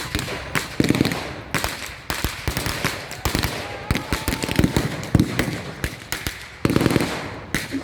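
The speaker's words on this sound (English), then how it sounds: ".303 bolt action British rifle being used there, along with the Sten gun and the Bren gun." Blank-fire volleys from British .303 bolt-action rifles, Sten and Bren guns at a WW2 battle reenactment in a park, with loud sharp cracks and short bursts scattered irregularly throughout.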